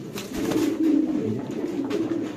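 Spanish pigeons coo in low, throaty, rolling calls, close by and fairly loud, with faint background noise and no speech.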